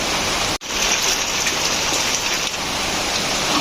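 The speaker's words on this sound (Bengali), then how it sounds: "আজকে অনেকদিন পর দিনের বেলা বৃষ্টি হইতেছে" Steady daytime rain pours onto a thatched hut, a dense continuous hiss of drops on the roof with one brief dropout early on, then unbroken rainfall with no voices.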